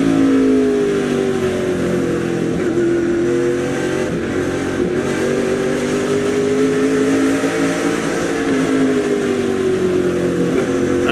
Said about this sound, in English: And listen to the throttle here.